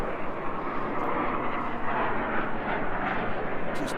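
Running engine of a large machine offered as an auction lot: a loud, steady broadband rumble and roar, close and continuous throughout with no speech over it.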